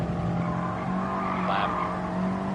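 A car braking hard in Gran Turismo 7, tires squealing briefly over a steady engine drone, the screech rising and fading within a second at moderate loudness.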